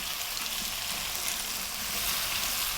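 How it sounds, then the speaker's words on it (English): Potatoes and mushrooms fry on fairly lively heat for a potato mushroom curry, making a loud, dense, continuous close sizzle with no voices. "We're going to go for 3 more minutes on this fairly lively heat, as you can hear, stirring pretty much all of the time."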